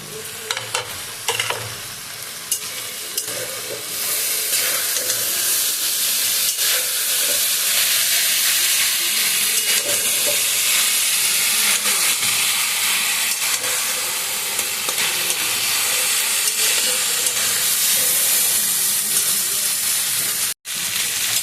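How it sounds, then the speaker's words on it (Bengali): Leafy winter greens sizzle and hiss steadily in a hot pan with tomato and green and red chillies, a spatula stirring and scraping through them close by, continuous and loud throughout with no talking. "এবার ভালো করে মিশিয়ে ভাজতে হবে"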